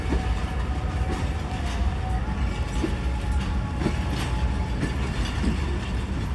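A 20-coach passenger train rolls through Lahore Junction, a steady rumbling wash with rhythmic wheel clicks over rail joints and a faint sustained squeal, close and continuous throughout.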